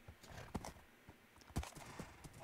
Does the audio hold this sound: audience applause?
no